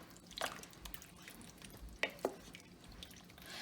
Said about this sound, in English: I'm gonna give everything a good stir. Get it all mixed up.